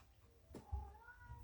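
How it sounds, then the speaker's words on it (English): A domestic cat gives a single faint meow, a short rising and falling cry heard alone over a quiet indoor background. "And the kitty cat is back."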